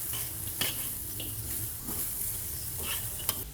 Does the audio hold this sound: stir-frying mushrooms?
yes